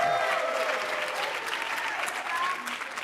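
A conference crowd applauds steadily, a dense patter of clapping that holds at an even level for a few seconds.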